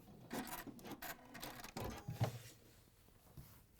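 A sewing machine stitching a jean jacket, faint whirring bursts of stitching that start and stop in short runs, with light clicks and handling noises between them.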